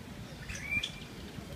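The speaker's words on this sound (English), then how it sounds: "The sparrows." Sparrows outdoors in Taiwan give a brief faint chirp or two, a thin high tweet rising over a soft breezy background with no talking.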